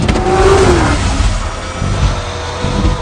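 A Ford GT40 race car engine in a film scene revs at full speed with a loud, rough roar and a brief rising whine near the start, then keeps up a gritty, sustained growl with no talking.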